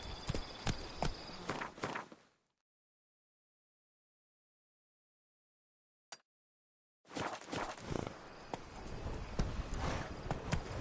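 Horse hooves clip-clop in The Witcher 3, a steady rhythmic walking gait mixed with game ambience, broken by about five seconds of silence before the hoofbeats resume.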